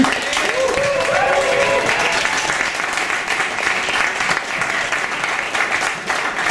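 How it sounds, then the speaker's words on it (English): Steady, loud applause rolls from an audience welcoming a featured performer at a Some-Antics show, a continuous wash of clapping that keeps going without a break. "please put your hands together for a big round of applause"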